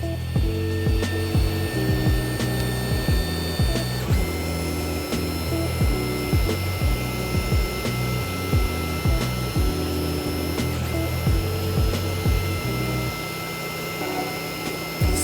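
A 3D printer laying down its first layer at 184% speed, with steady whirring and rapid stepper-motor tones that shift pitch in quick, repeating patterns, close and continuous.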